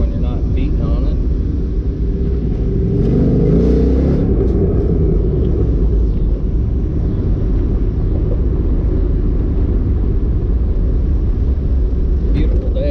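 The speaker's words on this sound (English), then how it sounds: "First to fourth gear, and she just cruises right along, just quiet as can be." A Mazda MX-5 cruises steadily through the gears on a neighborhood street, its engine a constant low rumble with wind noise throughout, and no sharp revving.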